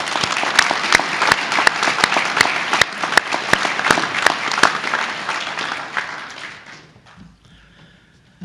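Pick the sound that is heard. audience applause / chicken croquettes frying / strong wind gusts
audience applause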